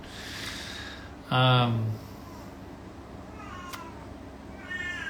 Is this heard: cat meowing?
yes